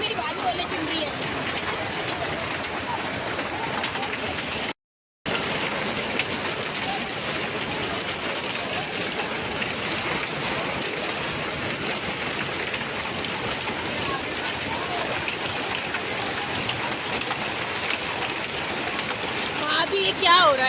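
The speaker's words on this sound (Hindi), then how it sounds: "ओले गिर रहे हैं इतनी बुरी तरीके से" Hail pelting down heavily during a trip to Vaishno Devi, a dense, continuous loud clatter that fills the whole scene, briefly cut off once, with people talking and shouting over it.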